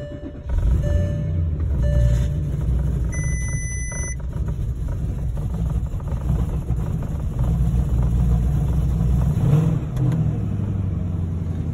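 A neglected Porsche GTS idling rough after new coil packs, spark plugs and fuel pumps, a steady low engine drone with an uneven, lumpy rumble, accompanied by repeated high electronic warning beeps.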